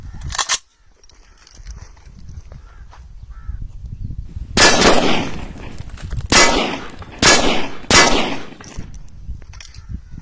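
Rapid bursts of M4 .223 (5.56 NATO) rifle fire ring out at steel targets in quick succession, four or five loud sharp shots with metallic clangs of hits and an earlier single shot.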